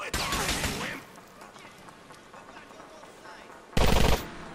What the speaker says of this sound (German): Ja, genau, ich habe daneben geschossen.